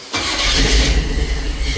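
A Chevy C10 Squarebody pickup engine cranks and fires, catching quickly into a loud, rough rumble close by that settles toward a fast idle with a slightly uneven throb.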